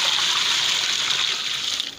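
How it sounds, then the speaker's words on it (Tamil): Water pours steadily in a continuous rushing gush onto soil mixed with cow dung while azolla culture is being prepared, close and fairly loud, tapering off near the end with no talk. "போட்டுட்டு தண்ணி ஊற்றுறீங்க."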